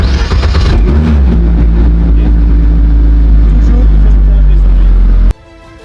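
Alpine rally race car engine started with the ignition button, its loud rough idle filling the cabin close up before cutting off abruptly near the end, with voices talking over it.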